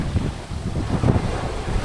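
Rough sea waves wash and rumble continuously off Bulalacao island, Oriental Mindoro, under heavy wind buffeting the microphone, with no voices.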